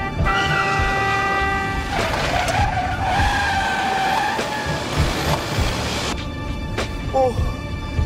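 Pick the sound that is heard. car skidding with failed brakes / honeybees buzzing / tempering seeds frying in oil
car skidding with failed brakes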